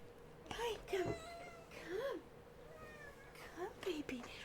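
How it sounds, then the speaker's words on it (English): A black cat meows several times indoors, short rising-and-falling cries that come in a loose series under a quiet background, while a person talks softly to it. "hey Black Kitty, hi, come"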